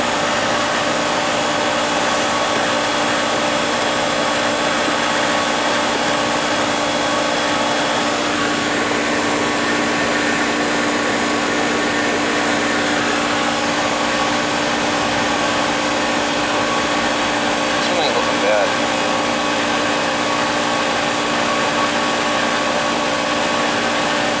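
Two Goodman R22 air conditioning units run during a charge check, a loud continuous whooshing drone of fans and compressors, steady and close throughout with no breaks.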